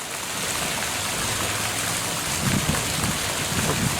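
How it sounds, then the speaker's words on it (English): Water from a garden hose pouring into a backyard swimming pool at its spring opening, a steady close splashing rush with no speech over it. "So now we got water going in the pool."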